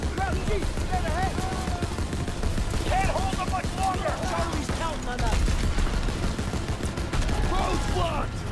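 A mounted gun on a jeep fires in sustained rapid bursts during a World War II shooter game, loud and continuous, with shouted voices and game effects layered over the gunfire.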